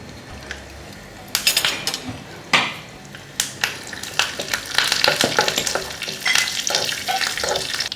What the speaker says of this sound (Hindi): इसमें हमने तड़के के लिए मस्टर्ड सीड्स डाले, कड़ी पत्ता, और इसमें हम डालेंगे थोड़ा अक्खा लाल मिर्ची